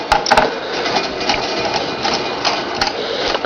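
Small electric screwdriver whirring steadily while removing screws from an Asus G71GX laptop, a continuous close buzzing motor with light clicks.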